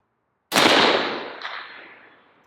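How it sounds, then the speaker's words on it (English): A single loud rifle shot cracks sharply from a rifle fitted with a Primary Arms 1-6x Gen 3 scope and a Hansen barrel, its report rolling out in a long decaying echo across an outdoor range. "But more than welcome to keep shooting if you want, John."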